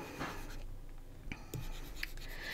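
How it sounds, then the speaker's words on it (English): Someone briefly rubs and scrapes an eraser across a classroom board, with short scratchy swipes that sound close and fairly quiet. "I'm gonna erase these here."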